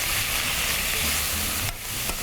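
Prawn shells fry in a hot pan for soup stock with a steady, loud, dense sizzle and crackle that barely lets up, broken by a brief stir or scrape near the end.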